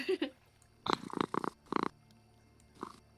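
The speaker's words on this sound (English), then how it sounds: "What a loud cat." A cat purring loudly and close, in several rough, throaty bursts separated by short pauses, with no one talking.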